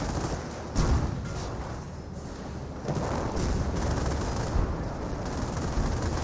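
A Hellcat tank destroyer fires during a Company of Heroes battle against Panzer Elite, with heavy booming shots punching through a constant rumble of battlefield gunfire and explosions.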